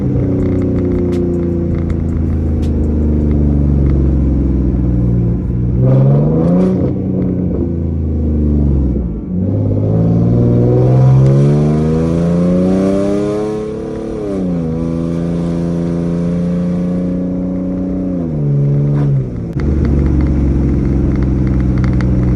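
A V6 Ford Mustang with a loud aftermarket exhaust revs repeatedly up close, its engine note climbing and falling in long sweeps over a deep rumbling idle, with no talking.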